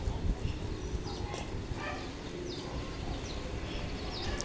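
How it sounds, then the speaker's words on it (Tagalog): Distant dogs bark intermittently over a steady noisy background, with faint bird calls mixed in. "May mga kumakahulpang mga aso."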